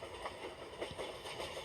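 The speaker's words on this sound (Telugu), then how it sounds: "అరే వెనకాల ట్రైన్ వస్తుంది" A video game train rumbles along with a steady, hissing, rolling noise and faint clicking wheels, fairly quiet and continuous.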